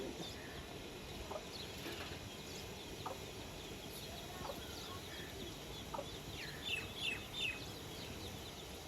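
A hen with her chicks clucks faintly amid a steady outdoor background, with a short cluster of soft clucks near the end.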